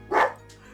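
A single short, loud dog bark from a pet indoors, followed by quiet.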